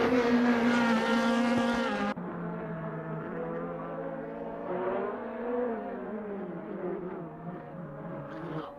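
Race cars from the 2018 DTM field lap TT Circuit Assen in Assetto Corsa, engines howling at high revs, one loud and near at first, then a fainter buzzing drone of cars farther off.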